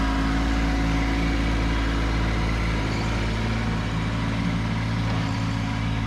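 A Kubota compact tractor without tire chains pushes snow. Its engine drones loudly and steadily throughout, with no talking.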